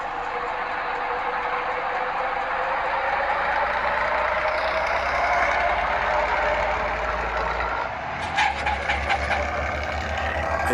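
Traffic in the Bus Simulator Indonesia game, including trucks and a Hino bus, rumbles steadily with engine drone, then ends in a sharp hiss like an air brake followed by low idling, with no talking.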